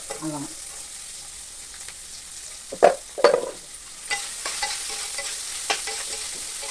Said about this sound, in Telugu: ఇప్పుడు కొంచెం పోపు వేగిందండి ఇప్పుడు పచ్చిమిరపకాయలు కలిసి వేగి